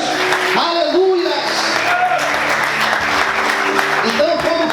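Church congregation applauding during a Portuguese-language sermon, a loud steady wash of clapping under a preacher's sung and spoken voice.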